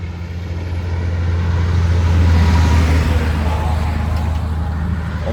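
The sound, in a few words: cars driving past on the street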